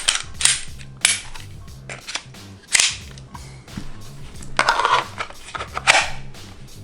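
A Glock 43 pistol is pushed into a We The People IWB holster, giving several sharp plastic clicks and snaps at irregular intervals, close and fairly loud, with some rustling handling in between.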